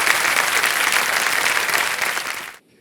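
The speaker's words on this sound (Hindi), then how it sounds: "तो देखो ताली बज गई।" Studio audience applause on a television quiz show, a loud, even wash of clapping that cuts off abruptly near the end into silence.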